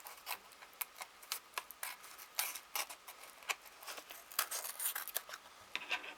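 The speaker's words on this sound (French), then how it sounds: "Je vais couper le papier de protection pour que ça me fasse juste une petite bande" Scissors cut protective backing paper into a thin strip for a craft project, giving a run of close, crisp snips at an uneven rhythm.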